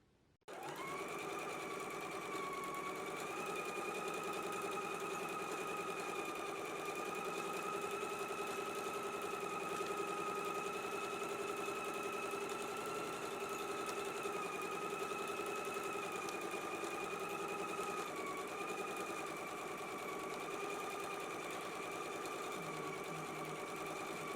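A sewing machine stitching a seam on a Simplicity S9411 apron, starting abruptly and running at a steady, even hum and rapid needle rhythm for the whole stretch, close and alone with no talk.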